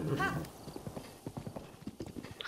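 Horse hooves clip-clop in Zelda: Breath of the Wild, a quick run of light rhythmic hoofbeats that follows a brief whinny at the start, close and moderately loud.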